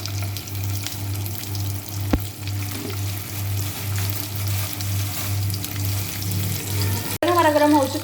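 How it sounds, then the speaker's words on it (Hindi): Butter heats and sizzles in a pan while white sauce is being made, a soft steady crackle over a low cooking hum, one sharp knock partway through and a brief burst of noise near the end. "मक्खन को गर्म कर रहे हैं।"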